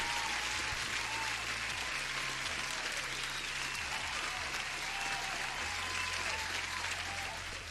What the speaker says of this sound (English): Alpha Bear, let me give you the applause first.